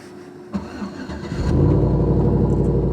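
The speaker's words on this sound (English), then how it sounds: "It's really loud back here because the exhaust is dumped like right there." A truck engine cranks and catches, then settles into a loud, deep rumbling idle close by with heavy exhaust drone, the exhaust outlet right beside the listener.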